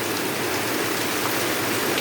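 Heavy rain pours down in a dense, unbroken roar of drops on surfaces, loud and steady throughout with no voices.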